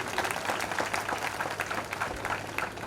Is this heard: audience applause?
yes